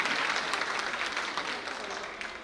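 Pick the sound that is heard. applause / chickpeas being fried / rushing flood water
applause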